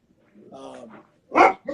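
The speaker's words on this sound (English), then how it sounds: "My dogs are going to go crazy here" Dogs barking indoors during a podcast recording: a short whiny, voiced sound, then one loud, sharp bark near the end and the start of another. No clear talk alongside.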